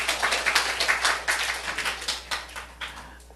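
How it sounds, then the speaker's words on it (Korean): A church congregation claps in a rhythmic, steady beat during a Sunday service, the claps fairly close and even, with no talking over them. "할렐루야, 우리 하나님께 박수 올려요."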